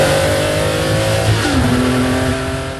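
A Ferrari Enzo engine roars close by, its pitch dropping sharply between gear changes and then climbing again in a strong, sustained revving howl.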